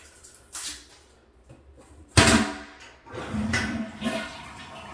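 A newly installed toilet flushes with a loud burst of rushing water, then swirls and refills with gurgling, close by in a bathroom, with no talk over it.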